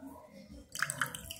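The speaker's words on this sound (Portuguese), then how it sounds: "E vou adicionar 50 ml de água aqui." 50 ml of water is poured into a pan holding sugar and Nescau chocolate powder: after a quiet start, a short splashing pour with a couple of sharp drips begins halfway through and runs to the end.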